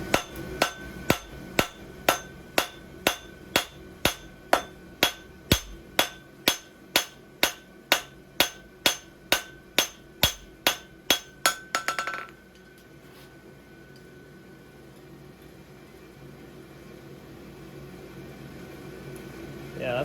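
A hammer draws out hot steel for a horse hoof template, ringing on the anvil in about two dozen loud, evenly spaced blows. The strikes then stop, leaving quiet workshop background.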